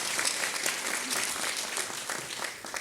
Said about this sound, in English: Please join me in giving the panelists a big round of applause.